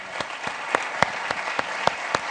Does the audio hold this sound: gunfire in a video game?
no